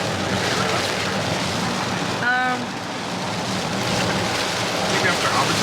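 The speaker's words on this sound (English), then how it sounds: "strongest rain we've had." Heavy torrential rain drums steadily on a vehicle on a drive through New Zealand's South Island, a loud continuous hiss with low rumble throughout and a brief squeaky tone midway.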